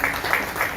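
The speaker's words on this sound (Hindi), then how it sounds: "उनके लिए जोरदार तालियां" Enthusiastic audience applause at a Hindustani classical music programme, a dense steady wash of clapping across the whole short moment with no speech over it.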